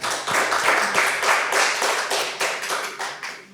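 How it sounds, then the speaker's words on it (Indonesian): An audience applauds at a podcast event celebrating a young person who memorized the Quran: dense, steady clapping from many hands fills the whole stretch, close and loud, with no speech over it. "Tepuk tangan untuk semuanya."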